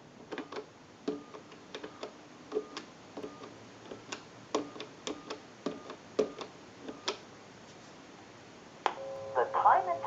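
A Mickey Mouse novelty telephone dials out with a series of short, evenly spaced tone pulses and clicks, followed by a brief burst of line noise, while someone speaks over it.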